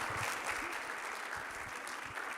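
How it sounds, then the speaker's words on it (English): A live audience at an art talk on court paintings from Royal Udaipur claps steadily, a faint, dense, even spatter of hands with no voices over it. "a huge, huge round of applause for Debra"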